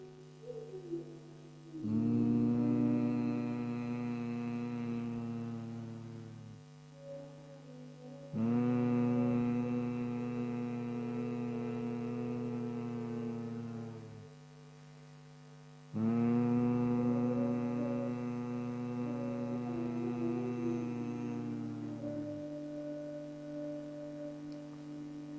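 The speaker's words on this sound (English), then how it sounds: "And now inhale deeply and start humming 3 times." Several people humming together in a chair yoga breathing exercise, three long sustained harmonic hums of about five to six seconds each, separated by short pauses for breath, steady and fairly loud.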